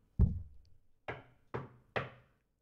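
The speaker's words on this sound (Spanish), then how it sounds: "Llamó a la puerta" Knocking on a wooden door: four sharp raps, the first heavier, then three evenly spaced knocks, close and clear with no talk.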